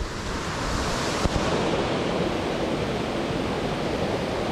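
Creek water rushing near Morans Falls in Lamington National Park, a dense, steady roar that stays loud and close throughout, with no voices.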